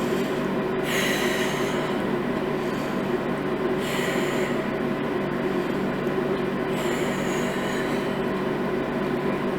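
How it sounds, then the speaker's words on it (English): A group meditating takes deep breaths: three long, slow inhales rise roughly every three seconds over a steady low background rumble, soft and airy, with no talking. "take 3 deep breaths"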